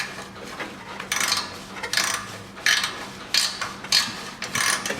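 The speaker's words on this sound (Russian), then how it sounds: "Я и четвертый болт открутил." A ratchet wrench undoes a bolt under a Nissan Qashqai 2.0 4WD in a series of sharp clicking bursts, about seven short ratcheting strokes close by with brief pauses in between.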